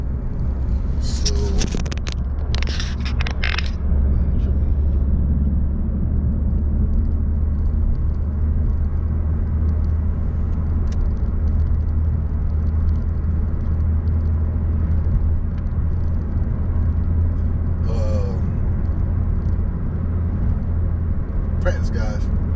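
Manual transmission car engine rumbling steadily while driving, a loud low drone heard from inside the cabin throughout, with a few clicks and brief handling sounds and a voice talking over it.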